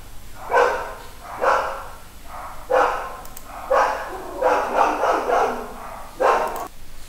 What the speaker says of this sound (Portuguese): O cachorro atrapalhou aqui, mas já deu uma acalmada.